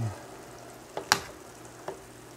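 Taco filling sizzling in a pan with a low steady frying hiss, broken by a few sharp scrapes and clacks as a utensil stirs it.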